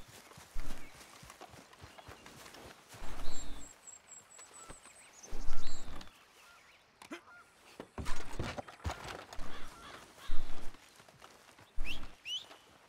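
Horse hooves clip-clopping in Red Dead Redemption 2, arriving in several bursts of steps at a steady walking rhythm, fairly close, with quieter gaps and brief bird calls between them.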